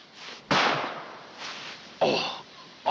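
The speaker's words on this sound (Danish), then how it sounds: "Hørte de skud?" Gunshots from a poacher in a forest ring out as sharp cracks, two loud reports with decaying echoes and a quieter one between, starting another at the very end.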